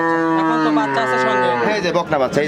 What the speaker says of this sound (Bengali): বিগ সাইজের একটি গাভী নিয়ে আসলেন সাদা কালো রঙের এটা কি জাতের ভাই হলস্টাইন ফিজিয়ান